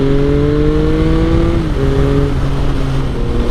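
A Triumph Sprint ST 955i triple-cylinder motorcycle engine runs loud and close, holding a steady note that drops in pitch midway as the revs ease, with no talking.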